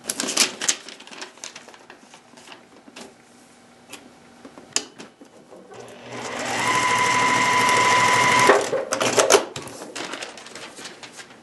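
A sewing machine stitches a seam on paper-pieced fabric for a pineapple mug rug, with scattered ticks and clicks before a loud steady whirring run of a couple of seconds, then a few more taps.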